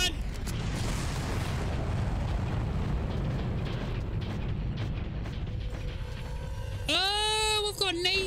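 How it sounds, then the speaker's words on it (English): Rocket blasts in Far Cry 1 rumble in a dense, sustained low roar of explosions and debris for several seconds before a voice cuts in near the end. "there are rockets being fired at me from all angles"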